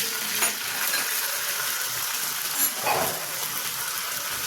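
Curry leaves hit hot oil already holding black mustard seeds, giving a steady, bright sizzle and crackle that runs throughout, with a couple of faint clinks, while tempering for a mung dal kadhi.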